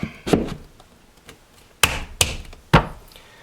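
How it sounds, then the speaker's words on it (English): Wooden knocks and thuds sound as the outer shell of a floating cat shelf is slid onto a wall-mounted cleat, with a few scattered taps followed by three sharper close bumps. "I'm just going to slide the outer shell on"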